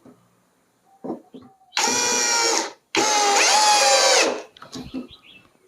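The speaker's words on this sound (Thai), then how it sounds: "ก็ลองลองยิงสกรูให้ดูสักสองสามตัวนะครับ" A cordless drill whirs in two sustained bursts while driving screws, about a second each, the second rising in pitch, with small clicks and knocks before and after.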